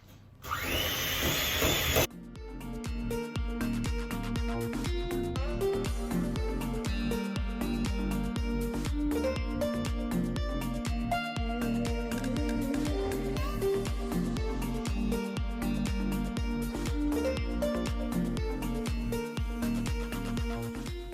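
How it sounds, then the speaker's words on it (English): Butter and sugar being whisked together in a mixing bowl for a brown sugar pineapple upside-down cake: a loud, steady mechanical whirring runs without a break after a brief harsher burst at the start. "put my butter and sugar into the bowl. And now I'm going to whisk it together"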